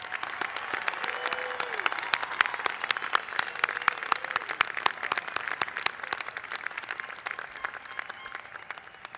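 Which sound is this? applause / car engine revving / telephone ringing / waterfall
applause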